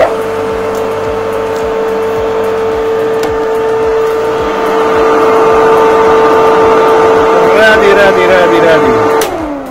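A repaired electric lawnmower motor with a new capacitor runs steadily with a loud, even hum and whine that rises slightly partway through, close up and continuous.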